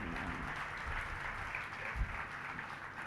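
Audience applause fills a spiritual discourse hall, a steady wash of many hands clapping at an even level throughout, with no voices over it.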